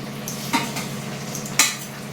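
Raw banana curry masala frying over low heat, a steady soft sizzle broken by two sharp scrapes of a spoon stirring against the pan.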